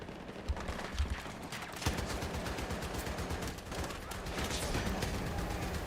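Sustained automatic machine gun fire in the video game Battlefield 6, a dense continuous rattle of shots with heavy battlefield rumble and scattered explosions underneath, loud throughout.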